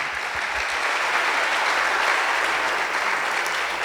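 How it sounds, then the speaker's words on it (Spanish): A church congregation breaks into dense, sustained applause, a loud even wash of many hands clapping together for nearly four seconds, with no voices standing out. "Denle ofrenda de palmas al Señor."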